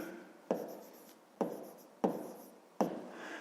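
Handwriting with a pen on paper while working a math exercise: four distinct scratchy strokes, each with a sharp onset and a short rubbing tail, close and quiet with no talk.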